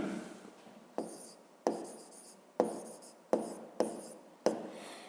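Pen strokes writing out a math answer on paper, six distinct bursts of scratching arriving every second or so, each starting sharply and fading, close and fairly quiet with no voices.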